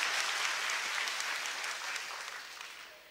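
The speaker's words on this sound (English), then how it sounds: "A round of applause." Audience applause in a university lecture hall during a talk by Tun Dr. Mahathir Mohamad, a steady, moderately distant crowd clapping that fades gently over about three seconds.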